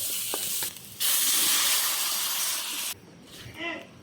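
Garlic, onion and sauce for chicken hamonado hiss and sizzle loudly in a hot pan, a steady broadband wash of frying broken by short pauses and a brief clatter near the end.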